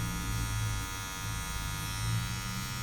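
A Wahl Magic Clip cordless hair clipper runs steadily at close range, its even electric buzz holding with no pauses and no one speaking.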